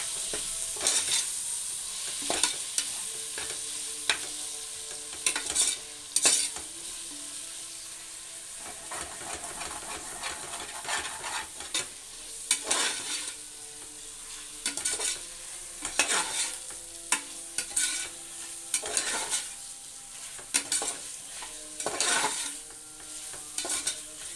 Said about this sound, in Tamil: நம்ம தக்காளி சேர்த்துக்கலாம். இதையும் நல்லா வதக்கணும்.